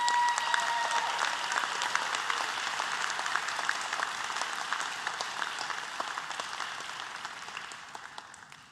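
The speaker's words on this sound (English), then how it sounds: "Let's give them all a round of applause." Sustained applause from a large audience at a medical school white coat ceremony, dense steady clapping that gradually thins and softens over several seconds, with no speech over it.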